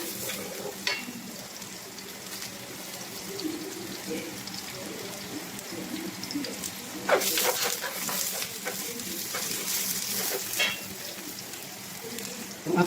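Red onion sautéing in a pan for balatong with beef ribs, soft steady sizzle with stirring scrapes and a brief louder burst of clatter midway.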